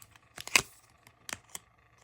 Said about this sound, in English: Hard to shuffle with these long ass nails and this small ass deck